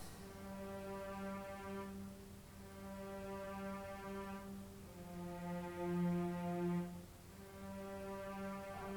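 Low bowed string tones sustained in long, smooth notes, a section of cellos swelling and shifting pitch together, fairly soft and distant.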